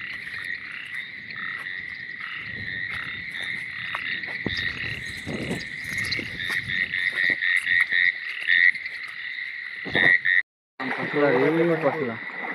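Frogs croak outdoors on a rainy night during crab catching, a dense steady chorus of calls with insects underneath, while people talk over it throughout and a brief break interrupts near the end.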